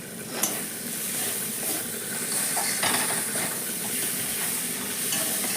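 Spices for echor chingri, a Bengali jackfruit and prawn dish seasoned with salt, sugar and garam masala powder, sizzle steadily in a hot pan while a utensil stirs and scrapes them at close range, with no talking.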